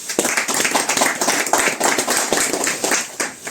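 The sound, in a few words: applause for fishing competition participants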